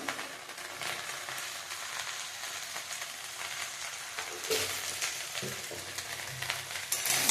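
Okra and potatoes frying in a pan with turmeric and salt, a steady close sizzle with occasional stirring scrapes and a few louder bursts near the end, no voices.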